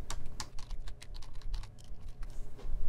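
Rapid typing on a computer keyboard, close up, a quick irregular run of sharp key clicks over about three seconds with no voices.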